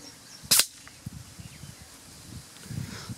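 An air rifle pellet from a Nova Vista Leviathan PS R2 strikes a target 50 yards away, a single sharp, bright impact crack over faint outdoor ambience with light rustling afterward.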